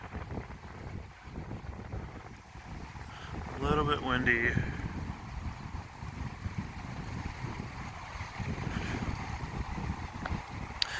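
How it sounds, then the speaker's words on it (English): Gusty coastal wind at Coconut Island, Hilo Bay, Hawaii, buffets the microphone with a constant low roar, and a brief voice surfaces partway through. "Really beautiful out today. A little bit windy."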